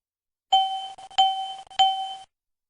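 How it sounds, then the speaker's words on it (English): The warning system of a BAe 146/Avro RJ airliner sounds a triple chime: three evenly spaced, loud, bright electronic dings, each held briefly, alone with no voices. "Why are the red attention getters and triple chime operating in this example?"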